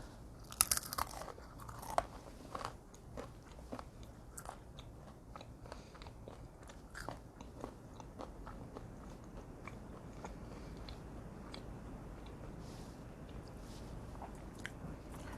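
Someone bites and chews crunchy crackers with seeds and almonds very close to the mic, sharp crisp crunches at first giving way to softer repeated chewing, quiet and intimate with no talk.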